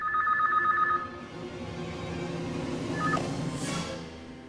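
A telephone rings in an indoor scene from a Hindi TV drama, with a short electronic trill at the start and a brief second ring near the end over a dim room background.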